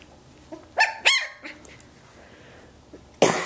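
A 17-day-old Samoyed puppy gives a few short, high yips and barks, spaced apart at close range, with one sharper, louder bark near the end over a quiet room.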